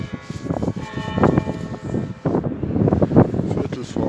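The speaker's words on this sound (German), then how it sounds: "Oh, jetzt läutet's." Frankfurt Cathedral's church bells ring out over the city and the Main river, a sustained resonant peal heard from the tower amid wind noise and someone talking.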